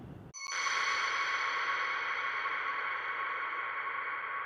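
A sharp clap hit blooms into a long, dense shimmering reverb tail, with decay time turned up, that sustains steadily and loudly, slowly fading without ever fully dying away.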